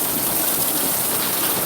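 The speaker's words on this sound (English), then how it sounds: "The rains came and I had to seek shelter." Steady rain pours down in a garden, a loud, even hiss of falling water that runs without a break and with no voices.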